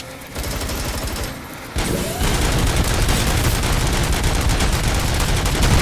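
Relentless gunfire from RoboCop: Rogue City at the OCP Arms Convention, a dense, loud fusillade of rapid shots that swells after the opening seconds and rattles on without pause.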